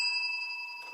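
A single bright bell tone rings out and sustains, clear and steady, then fades slightly with no talking.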